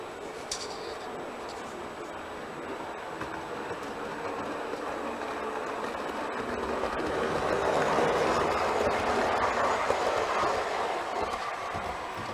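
The Rocky Mountaineer train rolls through a station with a steady, broad rumble and rail noise that slowly grows louder as the cars pass close by, with no voices.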